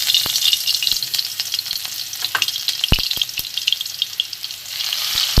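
Chopped garlic frying in hot oil at the start of a sea crab curry, a close, steady sizzle punctuated by sharp crackles and pops, with no talking.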